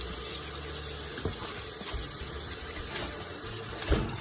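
A whole pineapple being rinsed under a running kitchen tap, the water giving a steady, moderately loud broadband rush throughout with a couple of faint knocks as the fruit is handled.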